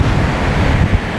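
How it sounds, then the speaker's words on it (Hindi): Sea waves at Madhavpur Beach in Gujarat, a loud, close wash of surf mixed with buffeting wind on the microphone, steady and unbroken. "समुद्र की लहरों की आवाज़ यहाँ तक सुनाई दे रही है"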